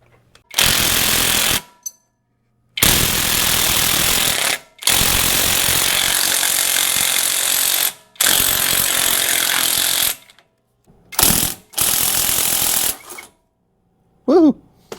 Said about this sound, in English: So should just need an impact or a wrench to turn off the bolt then